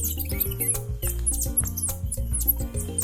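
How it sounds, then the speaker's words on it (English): Monkeys call in rapid high chirps and squeaks, layered over a steady low rhythmic musical bed and repeating in quick bursts throughout. "The monkeys make about 40 different sounds that each have their own meaning."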